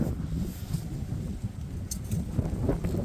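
Strong gusting wind buffets the microphone with a steady low roar, broken by occasional faint rustles; no one speaks.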